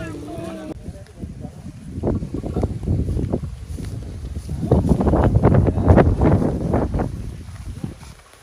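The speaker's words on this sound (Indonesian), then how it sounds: "Ini kondisi angin lumayan kencang." Strong wind buffets the microphone outdoors at a kite-flying contest, a rough rumbling roar that gusts and swells, loudest in the second half, with faint voices mixed in.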